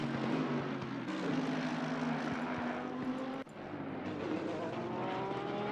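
GT3 race cars at Laguna Seca in Assetto Corsa Competizione roar continuously with high-revving engines, pitch climbing and dropping through gear changes, one brief dip partway through, close and loud.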